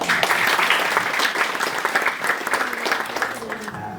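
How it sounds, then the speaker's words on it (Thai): Audience applause welcoming a guest named Banjong at a community gathering in Trang, a steady wash of many hands clapping that fills the whole stretch at even loudness and fades slightly at the end. "ขอเสียงปรบมือต้อนรับพี่บรรจงด้วยครับ"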